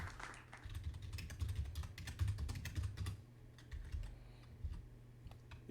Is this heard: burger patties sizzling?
no